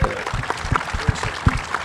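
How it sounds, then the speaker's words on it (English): Scattered clapping from an outdoor audience at an air show featuring a MiG-29UB Fulcrum and F-5 Tiger II, following a musical performance; sparse claps mixed with background noise. "So I think a round of applause as well."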